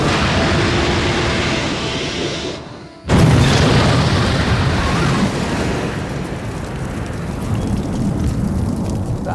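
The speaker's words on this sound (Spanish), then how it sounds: "Tras una enorme explosión, todo el barco y el agua ardieron." A huge explosion tears through a torpedoed ship at sea, the blast sounding as a sudden heavy boom after a brief drop, followed by a long rumbling roar that fades slowly.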